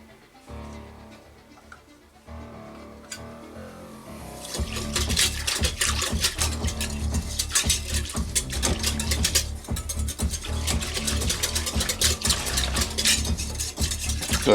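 Sugar and instant yeast being whisked for rye flour pizza dough, first a few quiet taps, then a busy, continuous rattling whisk against a bowl that runs for about ten seconds, close and steady, with no speech.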